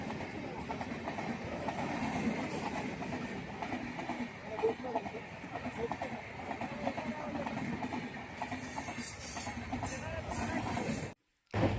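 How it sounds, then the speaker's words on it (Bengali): A passenger train runs on its rails with a steady, dense rumble and faint rhythmic clacking throughout, close and continuous, cutting out briefly near the end. "এবং সেই ট্রেনে ঘর ঘর আওয়াজ যেন সত্যি একটা ওই বাড়ি ফেরার ব্যাপারটাকে একটু আরও জমিয়ে দেয়।"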